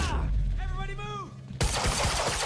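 A few sharp gunshots from a pistol in the game Quantum Break, a burst of loud rapid cracks at the end after a quieter stretch with a brief tonal sweep.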